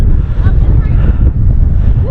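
Strong wind buffets the microphone on Hurricane Hill in Olympic National Park, a loud, steady low roar with gusty swells.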